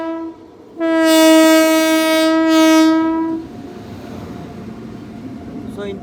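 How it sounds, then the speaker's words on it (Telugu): A Krishna Express train sounds a loud, sustained horn blast of about two and a half seconds, followed by the low rumble of the train moving along the rails. "మన ట్రైన్ అనేది ఇలా మూవ్ అయిందనమాట,"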